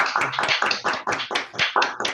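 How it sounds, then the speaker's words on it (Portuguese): A few people clapping over open microphones in an online session after a physics talk, roughly a dozen distinct close claps in an uneven rhythm with no crowd wash behind them. "abrir os microfones e dar mais uma salva de palmas aí para o Gabriel."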